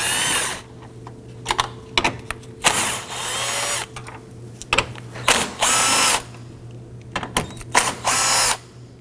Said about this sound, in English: Loosen and remove those using your 10mm socket.